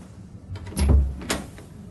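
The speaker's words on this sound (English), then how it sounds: "She opened the door and went in." A door opens in a hospital room with a short creak and a thump, followed by a faint second click, all close and fairly loud with no voices.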